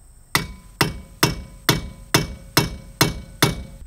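Eight sharp metallic hammer strikes at an even, quick rhythm, driving an Allen wrench into a stuck Torx screw on the front brakes of a 2015 Chevy Silverado, each hit close and loud with a short ringing decay.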